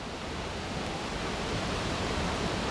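Steady, loud broadband rush of a waterfall's falling spray, a dense continuous roar without breaks or voices.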